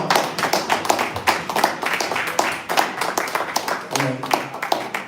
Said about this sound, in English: please give him a round of applause, guys